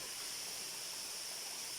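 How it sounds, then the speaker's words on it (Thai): Rushing water pours steadily at Pha Rom Yen waterfall in Uthai Thani, a strong seasonal flow making an even, broadband roar with no breaks or voices over the brief stretch. "ยังคงมีน้ำให้เราได้ชมน้ำตกสวยงามแบบนี้อยู่นะครับ"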